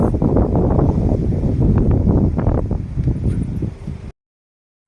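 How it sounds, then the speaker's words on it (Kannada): Loud, blustery wind buffets the microphone in a continuous roar for about four seconds, then cuts off abruptly. "ಗಾಳಿ ಎಷ್ಟು ಗಾಳಿ"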